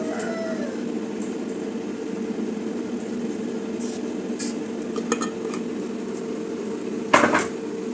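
Roasted peanuts scooped out of a metal kadhai on an induction cooktop: light scraping and clinks over a steady appliance hum, ending in one sharper metallic clatter near the end.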